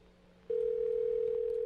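Steady telephone dial tone in the Roblox horror game Midnight Fried Chicken, starting abruptly after a faint hum and holding as one loud, unbroken pure tone to the end, with no talking.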